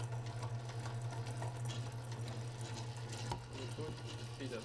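A KitchenAid stand mixer runs at reduced speed while syrup is poured into chocolate buttercream, a faint steady motor hum with a light rhythmic whir and soft mechanical clicking.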